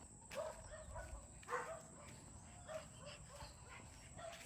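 An Aspin mixed-breed dog barks during an outdoor walk: a few sharp, mid-distance barks stand out over outdoor background noise.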